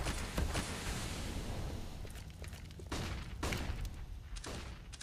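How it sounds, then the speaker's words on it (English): Counter-Strike match with grenades and gunfire: repeated sharp bursts and thumps ring out over a busy, noisy game mix, loud at times and fading back between shots. "And the grenade starts to stream in."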